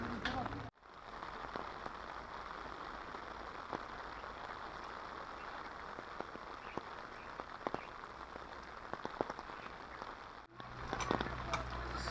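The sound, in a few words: rain falling at Sajjangad fort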